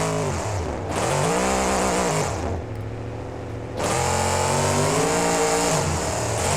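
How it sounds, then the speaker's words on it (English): A monster truck engine in the BeamNG video game revs hard while spinning in a reverse donut, two long loud surges of rising and falling pitch with a short dip between them. "putting it into a reverse donut"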